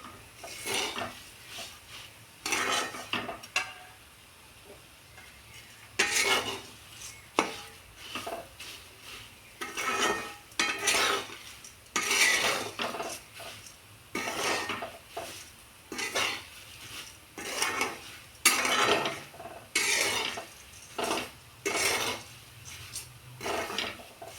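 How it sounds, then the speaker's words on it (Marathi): Bhel being stirred and tossed so the oil soaks in, a spoon scraping and clinking against the vessel in irregular bursts, close and fairly loud, with quieter gaps between strokes. "अगदी आपल्याला तेल मुरेपर्यंत ते परतायचं आहे"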